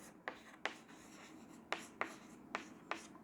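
Chalk tapping and scratching across a classroom board as a teacher writes a word: six short, crisp strokes in uneven rhythm, close and fairly quiet, with no voice over them.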